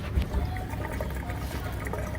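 A liquid fuel-system additive glugs and splashes steadily as it is poured into a car's gas tank, a close, soft, continuous pour with low background rumble.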